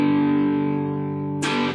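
A sustained electric guitar note from a riff through an old Fender amp with light overdrive, ringing and slowly decaying before a brief scratchy strum near the end.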